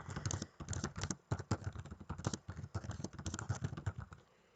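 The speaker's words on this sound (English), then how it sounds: "and then just begin typing" Fingers type on a computer keyboard, making rapid, irregular clusters of close key clicks that run steadily for several seconds, then stop.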